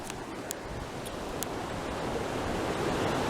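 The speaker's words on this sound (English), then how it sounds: "It's a raging river." A raging river, swollen with heavy water, rushes along a Utah mountain trail on Skyline Drive, a steady broadband roar that holds constant and swells slightly louder toward the end, with no voices.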